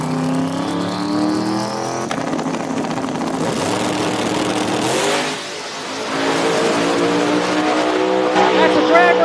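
Drag race cars at a small-tire racing event roar loudly down the strip, engines screaming under a crowd and commentary noise, with a brief dip in the middle before the roar returns strong.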